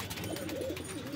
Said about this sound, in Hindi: बहुत ही प्यारा कबूतर